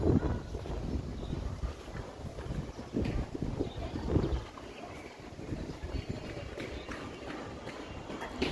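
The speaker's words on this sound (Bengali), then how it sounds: "বাতাসের পরিমাণটা কি দেখছেন আজকে? ভরপুর।" Strong wind buffeting the microphone in uneven gusts, with rustling and faint distant background noise, no talking.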